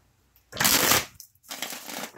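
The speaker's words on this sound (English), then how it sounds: "Getting a few more shuffles in here," A deck of tarot cards is shuffled at close range in two dense bursts of riffling, separated by a short pause, with no talking over it.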